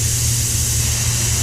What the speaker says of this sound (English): And I'm spraying at 30 PSI.